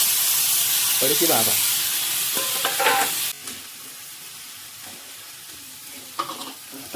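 Tomatoes go into a hot pan for poha, setting off a loud hissing sizzle with stirring that softens partway through, and a voice speaks briefly over it.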